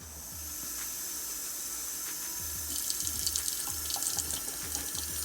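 Water runs steadily into the bottom reservoir of a small tabletop waterfall fountain, a continuous close trickling hiss that grows slightly busier with splashy bubbling toward the end, with no talking.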